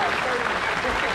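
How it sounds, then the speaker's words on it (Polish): An outdoor crowd at a castle military picnic applauds historical reenactors with dense, sustained clapping throughout. "to jest ten moment, kiedy możecie podziękować oklaskami naszym"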